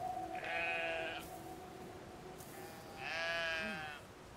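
Sheep in the game Brothers: A Tale of Two Sons bleat twice, each cry a wavering, fairly close call lasting under a second, separated by a quiet stretch of low ambient hum.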